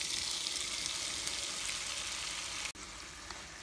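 Tomatoes frying in a small amount of vegetable oil in a skillet, a steady bright sizzle heard up close, briefly interrupted once by a soft knock near the end.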